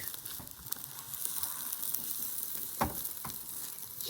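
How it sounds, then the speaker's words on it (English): A thin layer of beaten egg fries in oil in a frying pan for a Japanese bento. It gives a steady, soft sizzle with a few small crackles and pops, and there is no talking. "Add half of the remaining egg mixture and spread it thinly."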